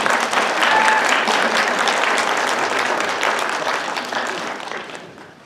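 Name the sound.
audience applause at graduation ceremony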